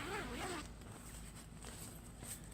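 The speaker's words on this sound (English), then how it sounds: "Now I've unzipped one side" A zipper on an Ozark Trail 8-person cabin tent being drawn open, a brief rasping pull followed by soft rustling and shuffling nearby.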